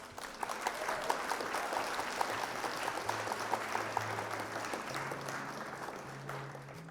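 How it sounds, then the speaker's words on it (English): Quiet, distant crowd applause rolling on steadily for several seconds, a soft wash of clapping with a few sharper claps standing out, and a low hum running underneath. "Round of applause for our opponent."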